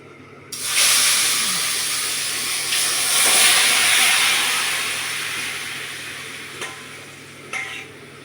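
Garlic-marinated mutton hits a hot kadai with a sudden loud hiss that swells into sustained, steamy sizzling, with a few brief utensil scrapes near the end.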